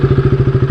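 A KTM RC 200 motorcycle at idle while being parked, its engine giving a loud, close, even low thumping pulse at a steady quick rhythm.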